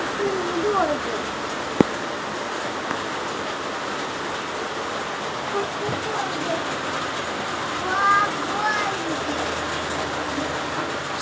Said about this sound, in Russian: Вот такой дождик в Самаре